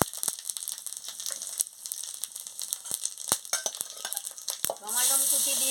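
Whole spices tempered in hot oil for a tangy silver carp curry sizzle steadily, broken by sharp clinks and scrapes of stirring before a louder hiss surges near the end.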